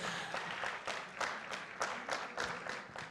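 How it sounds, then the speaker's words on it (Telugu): An audience at a film success celebration breaks into applause, a fairly faint patter of clapping hands rising in rhythmic bursts throughout. "అస్సలు కొడుతున్నారు క్లాప్స్, మామూలు క్లాప్స్"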